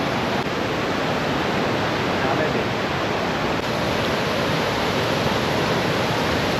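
Dense, steady roar of rushing water fills the clip, loud and unbroken, from a waterfall pouring nearby atop Kumbharli Ghat on the Chiplun–Karad road.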